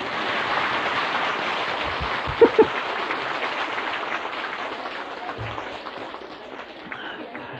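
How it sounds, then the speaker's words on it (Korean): Audience applause at a Buddhist monk's dharma talk, a broad crackling wash of many hands clapping that gradually thins out and fades. "이럴 때는 박수 치는 거라 이럴 때는."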